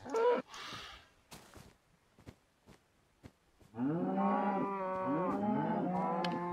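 Mooing from cows in the Minecraft game: one sustained loud moo with a second overlapping call, preceded by brief game clicks and faint breathy noise, with no speech.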